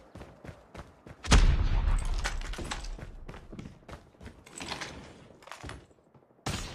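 A grenade in Call of Duty Mobile bursts with a loud, sharp boom that rumbles for a couple of seconds. It follows a series of quick clicks and clacks, and another sharp bang closes the sequence.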